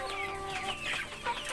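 A Golden Kamper chicken, a Pelung and laying-hen cross, clucks close by in a short run of soft, wavering calls, with no other sound.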